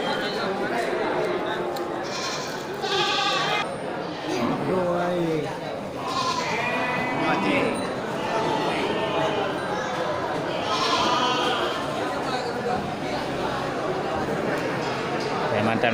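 Female goats and sheep bleat repeatedly at the Bireuen livestock market, with several calls at close range over continuous talk and crowd chatter.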